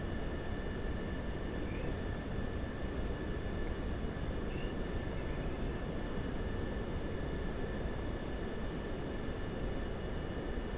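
Aircraft in a flight simulator game on a medevac approach toward a runway, a steady broadband engine and airflow roar with faint whining tones, even and continuous with no talk.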